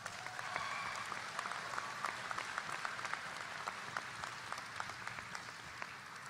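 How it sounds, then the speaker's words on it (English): An audience at a university graduate commencement ceremony applauds steadily, a dense wash of many hands clapping that goes on for several seconds at moderate distance, with no speech over it. "give them a big round of applause"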